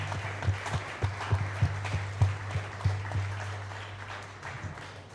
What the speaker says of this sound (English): let's give a round of applause to the community for showing up here